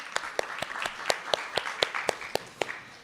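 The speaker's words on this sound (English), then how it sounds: "Can we give a round of applause?" Audience in a temple class clapping together in a steady, evenly spaced rhythm, each clap crisp and fairly close, with no talking.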